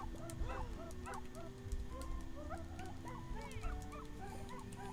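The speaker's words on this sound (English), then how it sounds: "the King of Hearts is supposed to be a dog. This is one of his little dog fairies." Small, yippy dog-fairy barks from the King of Hearts scene in the video game Wandersong, a rapid scatter of high chirping yips layered over steady background music.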